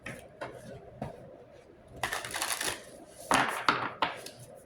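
Tarot cards being shuffled by hand, producing a few soft papery riffles and flicks in short bursts separated by quieter pauses, fairly close.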